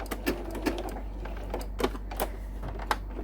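A sewing machine stitching a raw edge applique, its needle tapping in quick irregular bursts over a steady low motor hum, close and moderately loud with no voices.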